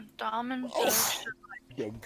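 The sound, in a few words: sneeze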